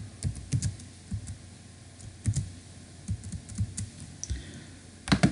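Computer keyboard typing C++ code, bursts of close, crisp key clicks in an uneven rhythm with short pauses between runs, no talking.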